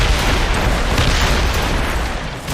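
Continuous loud booming roar of mortar fire from warships in Assassin's Creed Rogue, dense rumbling blasts merging into a sustained barrage with no clear gaps.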